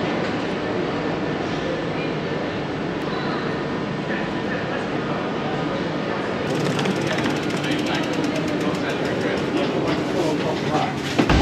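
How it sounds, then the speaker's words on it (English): Sleeper train to Inverness, Scotland, heard from on board: a steady, loud rumble and rattle of the carriage running on rails fills the whole stretch, with brighter clatter joining toward the end. "That is us now on the sleeper train"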